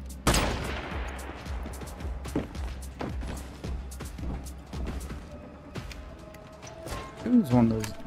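Gunfire in the post-apocalyptic co-op shooter Once Human: a loud opening shot followed by a steady string of sharp reports with fading tails, and a voice talking briefly near the end.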